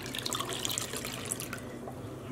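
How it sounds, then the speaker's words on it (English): A spoon is rinsed under running tap water, a steady close splashing stream that thins out toward the end. "I'm just going to go ahead and rinse off my spoon"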